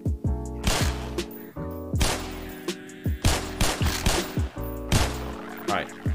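Rapid gunshots ring out in loud, sharp clusters, several quick shots per burst, with brief ringing tones between the volleys.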